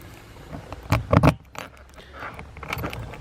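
Small keys jangle and clink against a motorcycle top case lock as it is unlocked, a brief close burst of metallic rattling around the middle over quiet background with faint later handling noises.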